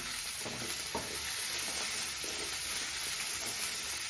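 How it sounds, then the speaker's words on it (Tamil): Drumstick pieces and potato sautéing in a pan for vegetable aviyal, a steady, fairly loud hissing sizzle with soft stirring scrapes, no one speaking. "இப்போ முருங்கைக்காய் சேர்த்துக்கிறேன் அதுவும் ஒரு நிமிஷம் வதங்கட்டும்"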